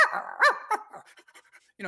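A voice imitates a panting dog, with quick breathy pants and whimpery gasps in short rhythmic bursts, close and loud, alone.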